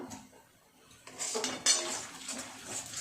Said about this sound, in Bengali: এইভাবে অনবরত নাড়তে হবে।